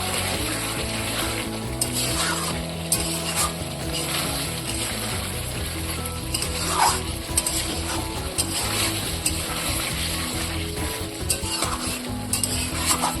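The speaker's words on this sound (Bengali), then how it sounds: "আর দিয়ে দেবো কুচানো টমেটো। আবার আমি কষাবো।" Mutton for kasuri mutton is sautéed with chopped tomatoes in a pan, giving a continuous close sizzle with steady stirring scrapes and occasional utensil clinks against the metal.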